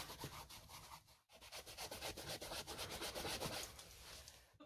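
Paper towel rubbed steadily over dyed shoes in circular motions, a continuous close scratchy swishing with a brief pause early on, then resuming without talk.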